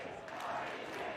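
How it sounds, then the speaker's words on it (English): A crowd cheers and celebrates newly crowned champions at a state robotics gameday event, a steady, moderately distant roar of indoor voices that holds evenly throughout. "There's the celebration as this crowd here inside finds out."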